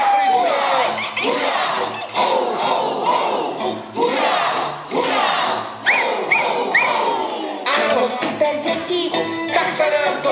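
Children at a theatre show for kids shout together in loud, repeated bursts, with sharp whistles rising through the noisy crowd.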